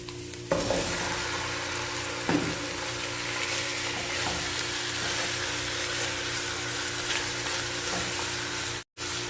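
Chicken sautéing in a pan with onion, garlic and ginger for chicken tinola, a steady close sizzle running throughout with a couple of brief stirring knocks near the start.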